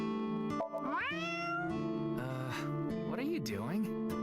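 Game character in AI: The Somnium Files voicing meows at a lucky cat statue, a series of drawn-out, wavering cat-like cries over soft background music, a human voice imitating a cat.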